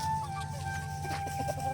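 Chickens and roosters cluck softly over a steady low hum, a few short faint calls close by as they pick rice grains from straw in a quiet village outdoor setting.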